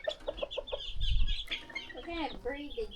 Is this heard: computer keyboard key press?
no